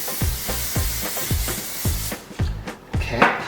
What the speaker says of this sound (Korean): 한 20cm 떨어진 부분에서 머리 전체적으로 골고루 머리 사이사이에 스프레이가 들어갈 수 있도록 뿌려줄게요